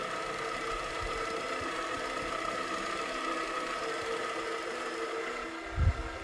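A Minimax Terminator bonnet carpet cleaning machine runs with a steady, even motor drone and whir throughout, with a brief low thump near the end.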